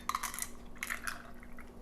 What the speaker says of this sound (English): pour the espresso mixture you have in there